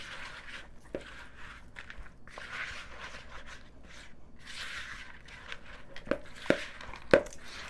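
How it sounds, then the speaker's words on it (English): Almond joy protein bite dough is stirred in a bowl, giving soft sticky scraping and squishing strokes in uneven bursts, followed by a few sharper knocks of the utensil against the bowl near the end. "we're going to mix all that together in our bowl until we have a doughy type consistency"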